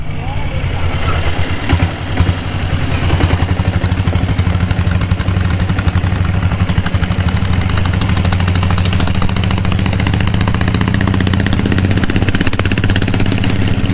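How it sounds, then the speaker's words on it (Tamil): A Kerala-built diesel Royal Enfield Bullet motorcycle thumps steadily on the road, its engine a loud, continuous low drone with a fast rhythmic beat, close and unbroken throughout. "என்னோட வண்டி ஓடுது போகுது."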